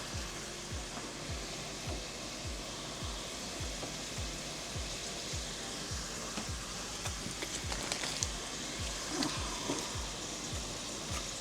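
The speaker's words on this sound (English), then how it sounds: "Let those fry a little bit." Sandwiches for Italian beef frying in a pan, a steady close sizzle and crackle running throughout with soft rhythmic scraping or stirring taps, no talking.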